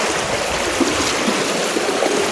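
A river stream being waded across by police on a border-pillar search in Nepal, a steady, close, loud rush of flowing water with small splashes throughout.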